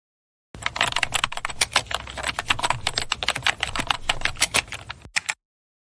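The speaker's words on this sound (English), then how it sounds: "I will type my response now." Rapid typing on a computer keyboard, a dense close run of clicking keystrokes lasting about five seconds, ending with a single firmer key tap, with no talking.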